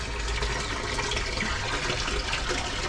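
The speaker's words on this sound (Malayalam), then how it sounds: "അടിയിൽ നിന്ന് വെള്ളം വരുന്നല്ലോ." Water welling up from below into a koi pond converted from a cement tank, near a pump motor: a steady, close gushing and bubbling flow with no talk over it.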